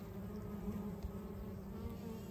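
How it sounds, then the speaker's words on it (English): Honey bees at a hive buzz in a soft, steady drone, faint and continuous, with no voices. "look at how calm these bees are"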